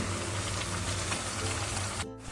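Ground masala frying in oil for a traditional Maharashtrian masvadi, a steady dense sizzle that crackles continuously at close range, then drops off sharply near the end.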